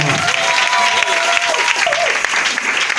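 A congregation at a Pentecost worship service claps and cheers continuously, a dense, loud wash of applause filling the room, with voices mixed in underneath.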